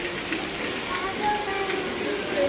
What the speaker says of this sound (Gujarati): ફૂલ વરસાદ આવે છે.